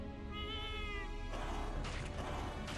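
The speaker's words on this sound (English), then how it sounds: "What a normal cat noise that was." A single drawn-out, oddly tonal meow from a cat in Little Witch Nobeta rings out alone, followed by bursts of noisy in-game sound effects.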